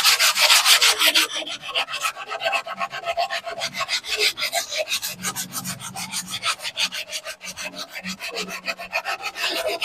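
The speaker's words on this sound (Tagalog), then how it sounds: "So, ito lilihain natin." Hand sanding of paint on a motorcycle fairing with sandpaper, a close, steady rhythm of rasping strokes back and forth, loudest at the start and continuing evenly throughout with no talking.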